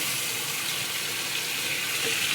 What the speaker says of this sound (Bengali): এই যে ভেজে রাখা মাংসগুলো এর মধ্যে দিয়ে দেবো